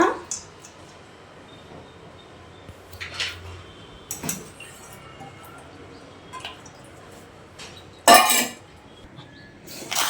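Pulao ingredients with mint and coriander being mixed in a pot, giving soft, sparse scraping and clinking of a spoon against metal with a few sharper knocks, quiet and close in a calm kitchen.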